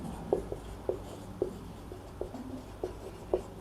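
Pen on paper while a math proof is written out, heard as soft close scratching strokes with small taps roughly every half second over a faint steady room hiss, no talking.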